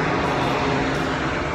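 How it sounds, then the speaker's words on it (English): A fixed-wing airplane flying over a hilltop building close to an airport gives a loud, steady engine roar that fills the whole moment, with no voices. "it's really close to the airport, so we hear a lot of planes"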